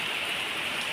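Heavy rain pours steadily in Hyderabad during the summer season, a dense, continuous hiss of water striking surfaces that stays loud and even throughout, with no voices over it.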